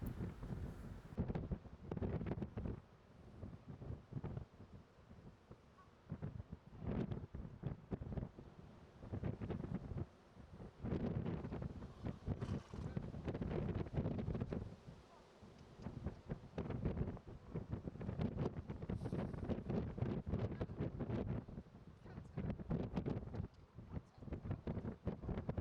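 Wind buffets a microphone outdoors beside a Friesian horse being lunged, a continuous rough rumbling gusting louder and softer throughout, with no other clear sound standing out.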